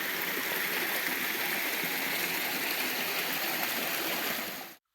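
A creek flows steadily nearby as a continuous broadband rush of water on a bright day outdoors, with no voices, before cutting off abruptly.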